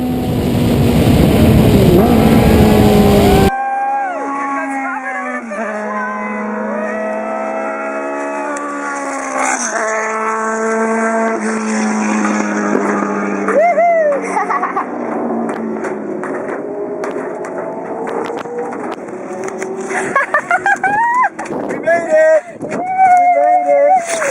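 A Formula 2.0 race car laps the Chuckwalla circuit during an SVRA vintage race, its engine a loud, sustained whine that rises and falls through gear changes and corners, heard up close from onboard.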